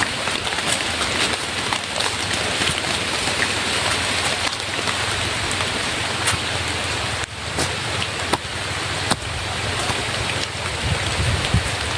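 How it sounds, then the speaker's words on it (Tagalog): Steady rain falls continuously outdoors, a dense, even hiss of drops with a few sharper splats and ticks scattered through it, and no voices. "Ang ulan po na."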